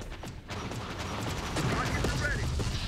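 Gunfire in the video game Terminator Dark Fate Defiance, a dense run of sharp mechanical bursts and clattering shots filling the scene during combat, steady and fairly loud, with some voice activity mixed in.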